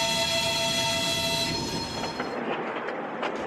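A Trans-Siberian Railway train at Moscow's Yaroslavsky station late at night, with a steady high whine and tonal hum of the train in the station for the first half, then a busier, diffuse rumble with sharp clanks.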